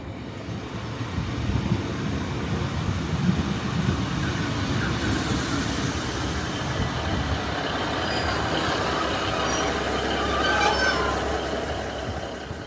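A train pulls into the Yorton request stop, a continuous loud rumble of rail wheels and carriages with faint high squeals, heard from the platform and holding steady as it arrives.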